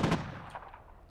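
A single gunshot from the video game F.E.A.R. cracks loud and close at the start, then its echo decays and trails off over about a second, with no talking.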